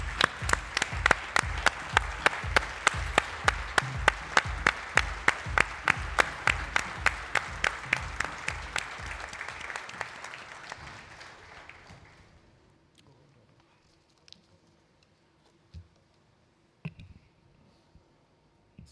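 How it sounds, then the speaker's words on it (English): An audience at a business summit claps in a rhythmic, synchronized beat for about ten seconds, then the applause fades away, leaving near silence broken by a few scattered knocks. "A big round of applause, everyone."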